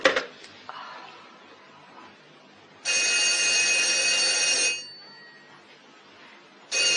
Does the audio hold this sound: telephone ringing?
yes